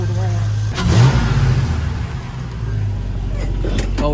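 Engine of a 1973 Donk car revving in a garage as it is moved, a steady low rumble with a couple of rises in pitch, close and fairly loud throughout.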